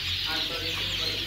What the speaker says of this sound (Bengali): আরও আছে 30 দিন বয়সী অরিজিনাল মিশরীয় ফার্মি মুরগি